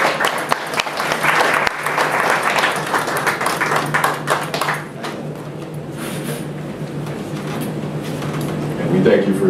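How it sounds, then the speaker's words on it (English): Attendees at a community meeting give a round of applause, loud clapping at first that fades, with people talking through and after it. "Let's give them all a round of applause."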